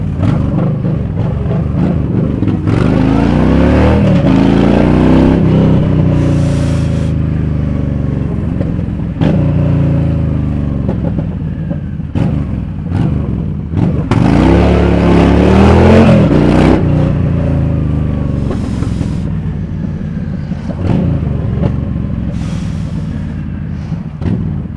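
A big cruiser motorcycle revs and accelerates loudly up close while filtering through traffic, the engine rising and falling in repeated surges with heavy low rumble.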